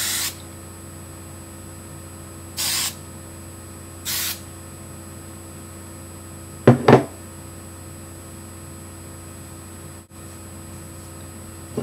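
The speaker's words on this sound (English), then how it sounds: "push it up, and spray on the top" Hairspray is sprayed onto the top of short layered, teased hair. Brief hissing bursts come from an aerosol can, with a short one at the start and two more a couple of seconds apart, then a few light knocks in a quiet room.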